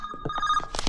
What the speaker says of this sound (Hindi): Your phone is ringing, yaar.